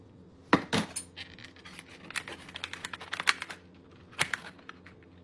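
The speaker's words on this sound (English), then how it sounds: "it is time to cut a slice. And we're gonna make sure to cut all the way through to that crust" A knife slicing down through a frozen pie and its crust, giving a few sharp scraping cuts and taps against a plate, close and fairly quiet, with no talking.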